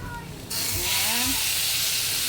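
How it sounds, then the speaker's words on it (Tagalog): Mung beans poured into sautéed ingredients in a pan, setting off a sudden loud, steady sizzle and hiss that swells after half a second and continues to the end, with a voice speaking briefly over it. "kuha lang tayo ng kaunting munggo dito at ibubuhos natin sa ating ginisang sahog niya"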